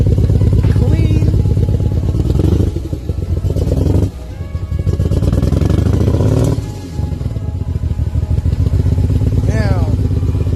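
A twin-turbo Nissan Z31 engine, freshly fitted with a new fuel pump and Haltech system, runs loud and close at a steady, lumpy idle, with brief dips in level and people talking over it.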